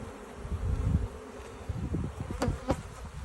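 Honey bees buzz around an open hive box during a colony inspection, a close, continuous hum with a few sharp handling clicks near the end.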